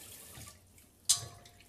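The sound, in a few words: zucchini rinsed under running tap water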